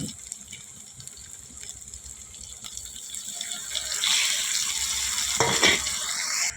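Ground spices with salt and a splash of water sizzle in a pan, a soft crackling hiss that grows louder toward the end, with a sharp scrape or stir near the close.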